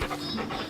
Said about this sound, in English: What a good dog.